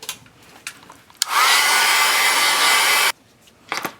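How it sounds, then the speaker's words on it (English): A hair dryer blows on wet craft paint on a printable mini album, switching on with a click and running loud and steady for about two seconds before cutting off, with faint handling noises before and after. "I'm gonna hurry the drying process along here."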